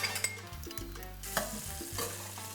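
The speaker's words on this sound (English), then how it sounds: "We saute the onions." Onions sautéing in chorizo grease and olive oil give a close, soft sizzle, with stirring scrapes and light clinks from a spoon in the pot, no talking.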